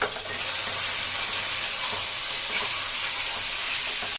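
Ground spices, turmeric, coriander and chili powders, frying in oil for curd chicken, a dense steady sizzle with soft stirring underneath, close and continuous without speech.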